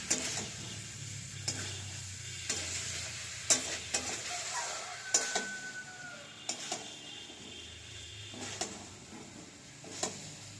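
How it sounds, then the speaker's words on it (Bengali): Masala with tomato and a little sugar fries in a pan for aloo dum while a spoon stirs it, keeping up a soft continuous sizzle. Irregular scrapes and taps against the pan cut in now and then, with no voices. "এবার মশলাটা কষবে, কষা হলে পরে জল দেবো।"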